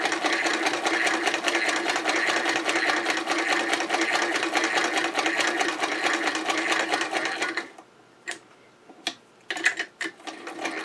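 A hand-cranked Singer Model 66 sewing machine, fitted with an inexpensive Chinese hand crank, stitches in a fast, steady mechanical clatter for about eight seconds, then slows to a few brief isolated clicks near the end.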